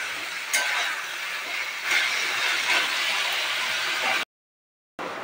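Water poured into a hot pan of mushroom curry sets off a loud, steady hiss and sizzle that holds for several seconds, then cuts off briefly before resuming.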